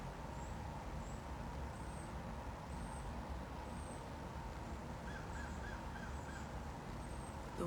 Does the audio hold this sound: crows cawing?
yes